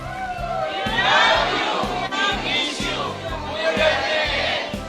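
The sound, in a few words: crowd shouting a cheer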